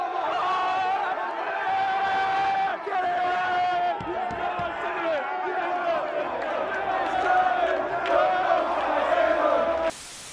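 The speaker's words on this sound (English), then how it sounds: "You can look back at the videos and see as the crowds erupt as the news circulates around them" A football crowd erupts in loud, sustained cheering and chatter, with shouts and excited voices rising and falling across the whole stretch before an abrupt cut near the end.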